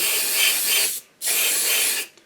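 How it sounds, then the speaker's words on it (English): An airbrush sprays paint at very high air pressure onto an Airfix 1/72 Vulcan model kit: two loud, steady hissing bursts of about a second each, split by a short pause, with no talking. "as you can see by the bit more spray coming over, you can see this is still a very high air pressure"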